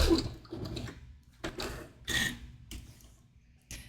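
A sewing machine stitches stretch fabric in short, quiet bursts that come closer together as the speed picks up, ending with a brief back-stitch.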